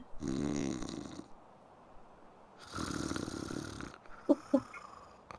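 A sleeping character snores in the life-simulation game The Sims 3, with two long, rasping snore breaths separated by a pause. A few short game sounds follow.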